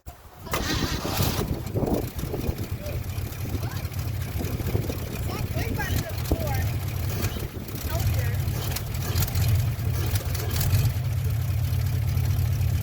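A 1957 Chevrolet engine idles steadily after a carburetor rebuild, a continuous low rumble running throughout with slight variation in pitch, while people talk over it.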